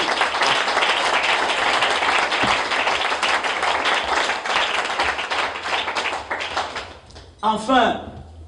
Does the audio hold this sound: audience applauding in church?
yes